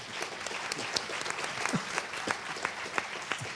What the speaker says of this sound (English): Let's give an applause for this gentleman for their wisdom that they share.